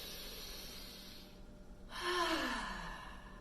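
A deep breath during a guided meditation, one long sigh-like exhale swelling after a brief pause, close and soft over a faint room hum, with no talking.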